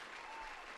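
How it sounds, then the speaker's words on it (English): Applause sound effect dropped into a solo podcast intro, a short burst of dense, steady clapping that sounds close and evenly loud, with no talking over it. "We get the sexy claps today."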